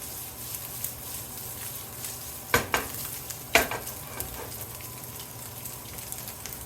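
Meat frying in a pan for biscuits and gravy gives a steady close sizzle, broken midway by a couple of sharp clinks and scrapes from stirring.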